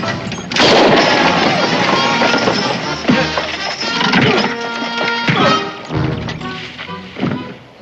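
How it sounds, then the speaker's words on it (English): Gunshots in a TV western, several loud sharp reports in quick succession over a busy, dense soundtrack, close and forceful. "Fuck, he did fire."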